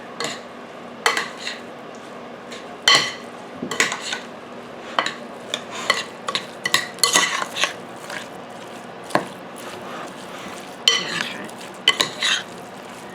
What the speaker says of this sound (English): Now we're going to mix all this up.